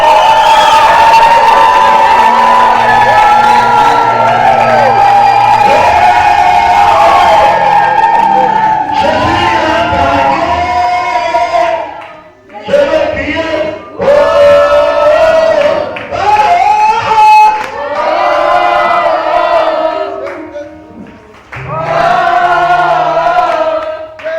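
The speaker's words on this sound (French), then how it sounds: "Pousse ton cri de joie, ton cri de triomphe, ton cri de réussite." A loud crowd cheers and shouts cries of joy, with sustained whooping voices and brief pauses between the bursts.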